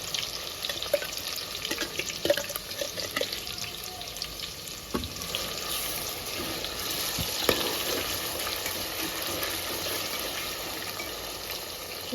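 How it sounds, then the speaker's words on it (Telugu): Ground onion paste frying in hot oil for a fish curry, a continuous close, moderate hiss with scattered small pops and a few clinks, no voices. "ఆయిల్ వేడైందండి మిక్సీ పట్టుకున్న ఉల్లిగడ్డ వేసుకోవాలి"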